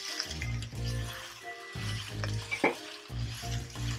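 Ground spices hitting hot oil in a pan for a leftover chicken curry, giving a soft, close crackling sizzle with intermittent stirring scrapes and a brief louder spatter, all fairly quiet and without speech.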